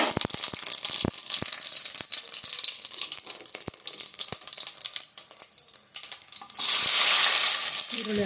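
Whole spices crackle and sizzle in hot oil in a pan for bagara rice, a steady close frying hiss with scattered pops and stirring clicks, swelling louder near the end.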